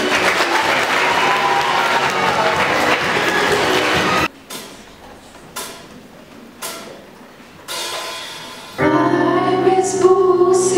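Applause from a school audience at a talent show, a loud burst of clapping for about four seconds that cuts off abruptly, followed by quiet thumps and then music starting.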